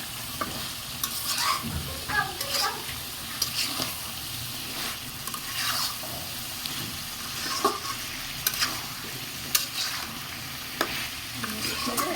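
Curry sizzling steadily in a hot pan as gravy is poured in and stirred through, with scraping spoon strokes and bubbling crackle running throughout at close range, no voices.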